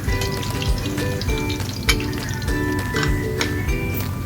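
Ingredients fry in a pan for Hyderabadi paneer, a loud, steady, close sizzle with bursts of crackle and a few faint utensil clinks, without speech.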